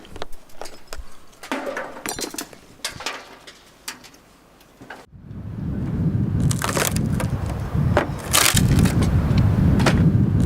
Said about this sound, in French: il faut casser le plâtre qui retient les crochets